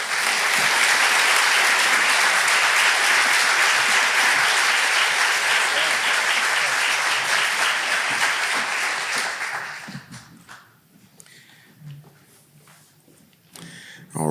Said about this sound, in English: Please give a round of applause and welcome Commissioner Muldrow.